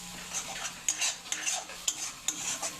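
A spice mixture is stirred in a pan, with a spoon scraping the metal in quick repeated strokes and a faint sizzle underneath, close and clear.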